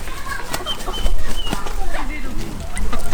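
An Ancona rooster flaps its wings in short bursts and gives low clucks close by, while someone talks throughout.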